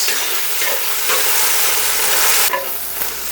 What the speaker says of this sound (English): And once you add the ginger and garlic, just give a good mix.